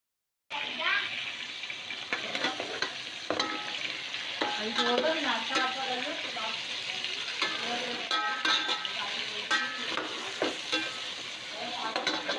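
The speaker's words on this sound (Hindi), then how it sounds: "जब लहसुन अदरक ज़रा सा भुन जाए और इसकी खुशबू आने लगे" Garlic and ginger fry in a pot for Nihari, giving a steady close sizzle with scraping and stirring noises over it that carries on after a sudden start.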